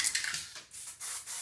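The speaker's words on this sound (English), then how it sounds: "I'm gonna use spray glue." Spray glue hisses from an aerosol can in several short, quiet bursts close to the microphone, with brief gaps between them.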